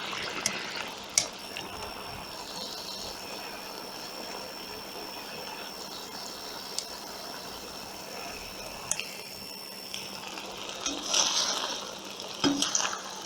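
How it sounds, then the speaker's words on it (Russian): Water boils off over high heat in a kazan of beef plov, a steady bubbling hiss and sizzle with occasional pops and crackles, close and continuous throughout. "теперь держим огонь на максимум и выпариваем воду"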